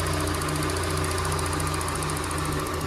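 A car engine idling steadily after a 1,200 km trip, a close, continuous mechanical hum with a ticking, knocking rhythm layered over a low drone, no talk.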